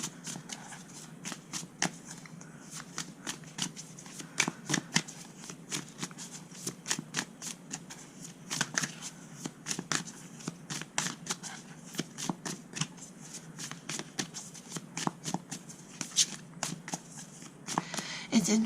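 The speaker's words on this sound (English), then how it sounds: "as I was shuffling" Tarot cards are shuffled close up in a quick, steady run of crisp papery riffles and taps that continues throughout, with a voice heard at times.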